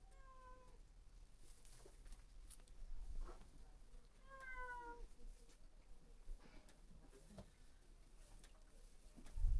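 A cat meows several times, a few clear close calls spread over a quiet outdoor village background with faint birds, soft rustling and a bump at the end.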